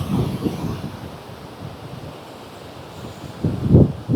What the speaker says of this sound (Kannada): ಸೊ ಈಗ ಸಮುದ್ರ ಸ್ವಲ್ಪ ರಫ್ ಆಗೇ ಇದೆ